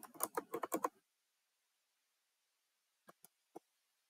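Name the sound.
typing a library card number on a computer keyboard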